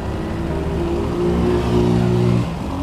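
A motorcycle engine runs while leaking oil, a steady mid-pitched hum and whir with a slight rise in revs, close and fairly loud with no talk over it.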